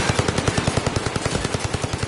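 Rapid automatic gunfire in a first-person shooter video game during recoil control practice, a loud, steady, evenly spaced burst of shots lasting about two seconds.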